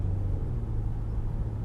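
Steady low road rumble of passing traffic heard from inside a moving car, a continuous muffled drone with no talking.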